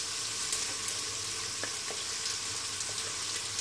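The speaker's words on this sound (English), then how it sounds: "Now I'm adding ginger and garlic paste, and also these green chillies." Ginger garlic paste and green chillies frying in a pan for chicken pulao, a steady soft sizzle that runs the whole time, with a few faint stirring clicks over it.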